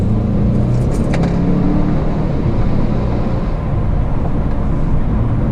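A 2018 Mercedes CLA250 turbo four-cylinder accelerating in sport mode on an open road, a loud steady engine rumble and road roar from inside the cabin with no talk.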